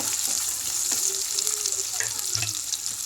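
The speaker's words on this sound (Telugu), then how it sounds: "చూడండి, కొద్దిగా వేగుతున్నాయి చూడండి బాగా." Frying sizzle in a pan while cooking Mysore papu curry, a continuous hiss with a few light stirring clinks and scrapes.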